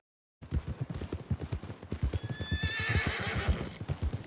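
A horse in Red Dead Redemption 2, hooves clip-clopping in a quick, even rhythm close up, joined midway by a long high whinny.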